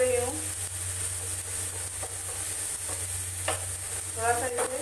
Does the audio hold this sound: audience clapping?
no